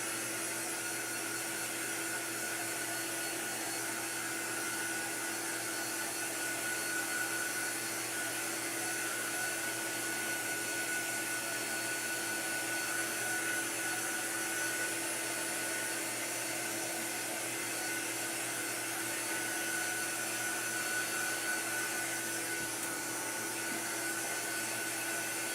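A hair dryer blows steadily and loudly on a Chalk Couture craft project, a continuous even whoosh with no pauses and no talking.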